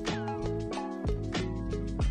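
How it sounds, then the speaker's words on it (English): A mermaid cat in the Minecraft video game meows repeatedly in quick, bright cries over a steady harmonic music bed, with no voices. "That's a freaking mermaid cat."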